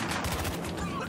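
Rapid gunfire rattles through a Battlefield Hardline multiplayer match, dense and continuous shots blending with game ambience over its short span.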